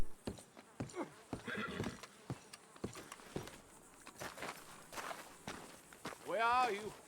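A horse in the video game Red Dead Redemption II whinnies near the end, its neigh clear and close, after scattered hoof thuds and footsteps; voices talk intermittently.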